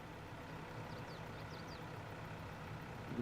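A tractor engine idles in Farming Simulator 22, a faint, steady low rumble heard from a distance with no voices over it.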